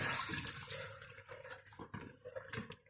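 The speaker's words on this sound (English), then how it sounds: "Add some more water because we're going to cook it now for a couple of hours" Water is poured into a pot of beef curry, a soft, uneven splashing and trickling heard faintly at close range for a few seconds.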